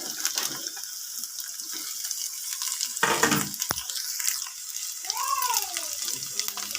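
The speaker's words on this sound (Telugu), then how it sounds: "ఇప్పుడు మనం కట్ చేసుకున్న దొండకాయ ముక్కలు దీంట్లో వేసుకుందాం." Cut ivy gourd pieces tipped into a frying pan of fried peanuts and stirred, a soft sizzle with a sharp scraping clatter near the middle, faint and close.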